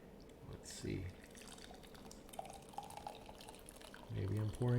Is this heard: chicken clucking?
no